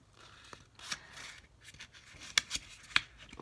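Bone folder creasing folded paper card against a metal ruler, a few faint scraping rubs and sharp little clicks scattered over a few seconds, close and quiet, with no talk.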